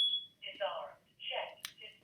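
A home alarm sounds in short, high, shrill beeping bursts that come and go, partly overlapping with people talking.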